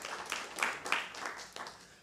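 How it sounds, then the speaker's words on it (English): Light applause from a small audience at a town council meeting in Davie, with brief scattered clapping lasting about two seconds at moderate volume. "So if we get a little clap for Brian and his team."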